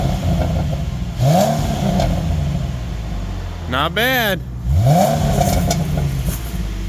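A stock 2010 Ford Mustang with the 4.0L V6, cats, resonator and muffler, revs in neutral: two rising-and-falling throttle blips, each swelling from idle and dropping back, with a brief whine between them and someone speaking over the idle.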